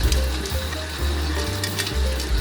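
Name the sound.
water poured into bread dough in a stand mixer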